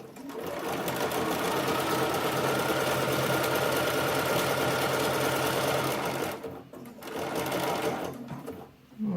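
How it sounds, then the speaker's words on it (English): Sewing machine running steadily while zigzag stitching lace, a loud, even mechanical whir close by that pauses briefly near the end and then restarts. "I sink that needle, and that gathers up that lace"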